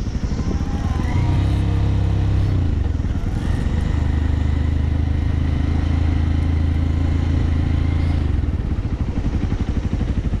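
A motorcycle climbs a steep mountain route near Pelling in West Sikkim, its engine droning loud and close throughout, with a steady low rumble and a slight rise in revs partway through.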